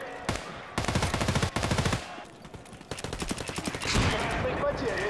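Automatic fire from a 60-round rifle in the Escape From Tarkov Arena video game, several rapid bursts separated by short pauses, loud and close, with voices talking in between.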